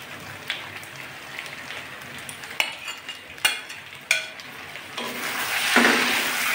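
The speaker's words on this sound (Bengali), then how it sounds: "এখন আমি ভেজে রাখা আলুগুলো দিয়ে দিচ্ছি।" Fried potatoes and pointed gourd are stirred through a spice masala in a pan, soft crackling sizzle under sharp, intermittent scrapes and knocks of a spatula, building to a louder hiss toward the end.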